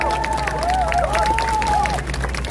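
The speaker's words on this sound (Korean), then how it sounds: "박수 한번 주십시오." An audience claps and cheers at a young speaker's political speech in Korea. The crowd applause is moderately loud and runs for a couple of seconds, with a voice carrying over it.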